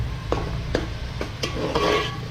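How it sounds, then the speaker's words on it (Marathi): Masala paste cooking in oil in a pan for a Koli-style red snapper fish curry, stirred with a few scraping strokes against the pan over a steady low sizzle, close up. "आणि वाटण फिरवत राहा नाहीतर खालून लागून जाईल"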